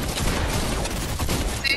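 Rapid bursts of gunfire from the video game Fortnite Chapter 2 crackle through the stretch, with several sharp shots close together and another brief flurry near the end.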